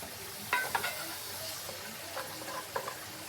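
Cheese melting in a hot pan while being stirred, a quiet sizzle under a few soft scraping and clinking strokes of the utensil against the pan.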